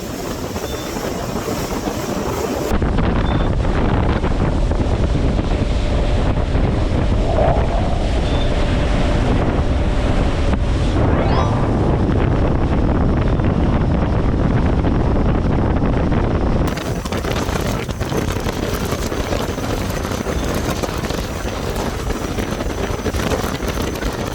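A motorboat cruises north on Biscayne Bay near downtown Miami, with a constant loud roar of engine, rushing water and heavy wind buffeting the microphone throughout.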